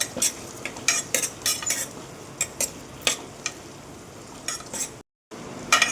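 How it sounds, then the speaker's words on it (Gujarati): Mixed vegetables, including carrot and capsicum, being stirred and sautéed in a pan for mix veg pulao, with repeated scraping clinks of a spoon against metal over a soft sizzle, close and rhythmic, briefly cut off near the end. "આપણે બધી જ શાકભાજીને આ રીતે હલાવીને સાંતળી લેવાની છે।"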